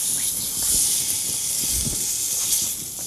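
Toffee sauce bubbles in a pan for sticky toffee pudding, giving a steady bright sizzling hiss with soft pops and crackles throughout and no voices over it.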